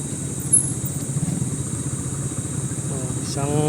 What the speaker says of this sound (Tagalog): Tapos 5 motor